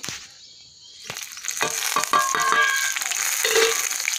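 Onions tipped into hot oil for a home-cooked chicken curry with dal and rice, giving a sudden close sizzle that builds into steady frying with scraping and clatter from stirring, and no voices.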